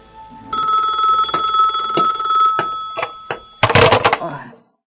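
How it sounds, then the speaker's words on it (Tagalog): A telephone bell rings repeatedly with sustained metallic tones, followed by a few thumps and a burst of clatter near the end, in an Ilocano-language radio drama. "Naguni ti telepono."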